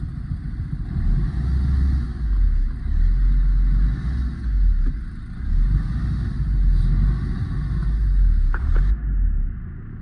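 A Fiat car with a faulty speedometer drives along in gear, its engine a loud, steady low rumble with slight rises and dips in pitch, no voices over it.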